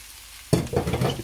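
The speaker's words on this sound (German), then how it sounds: "alles einfach reinschmeißen, ein bisschen rühren und dann einfach anbräteln bis zur gewünschten Festigkeit" Ingredients stirred in a hot pan, starting with a sudden loud sizzle as they hit, then scraping and bubbling frying noise that carries on close and loud.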